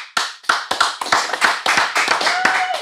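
An audience at a skateboarding event claps in a dense burst of sharp hand claps. The claps sound near, loud and irregular, with some voices mixed in.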